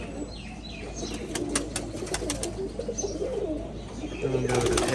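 Pigeons in a pigeon loft at a Rajshahi color-matching pigeon farm coo in repeated low throaty phrases, with a brief flutter of wings and chirps in the background, close by and mixed with faint ambient noise.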